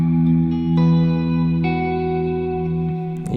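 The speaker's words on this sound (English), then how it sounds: "This is still one of my favorite modulated reverbs in pedal form" A sustained electric guitar chord through a stereo modulated reverb pedal rings out in a wide, shimmering reverb, with new notes layered in and a long, lush tail.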